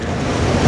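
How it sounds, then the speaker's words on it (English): Strong wind roars across the microphone while someone rides a Master Pro V1 electric unicycle, loud and close in a short gust. "here goes the wind again"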